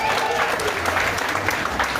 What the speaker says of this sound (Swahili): Tumpigie makofi mazuri.